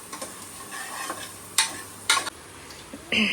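Biryani masala stirred in a pot with a spoon, a low sizzle running underneath broken by a few sharp scraping bursts and a final clatter, no voices.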